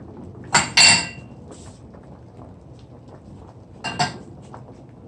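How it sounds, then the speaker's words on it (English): Scallion is crushed for Jamaican red peas soup with a few sharp knocks on a hard surface: a close pair of strikes, a pause, then another pair. "Crush scallion."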